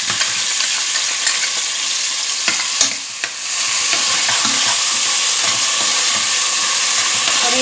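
Onions frying in ghee for Mangalore restaurant-style biryani, a loud, continuous close hiss and sizzle with occasional stirring knocks against the pot, no voices.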